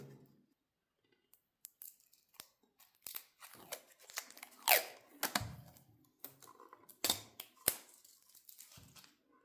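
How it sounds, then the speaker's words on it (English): Plastic wrap is pulled and torn from the box of a Xiaomi Smart Home Hub 2, heard as close, irregular crinkles, snaps and scratchy bursts after a quiet opening, with no talking. "And let's try to unwrap it."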